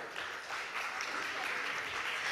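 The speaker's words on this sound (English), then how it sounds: "Please welcome Mr." During an on-stage welcome at a corporate event, an audience applauds as a steady, moderately quiet wash of clapping, lasting throughout the moment without noticeable breaks.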